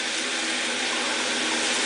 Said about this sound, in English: So I'm running hot water on my hand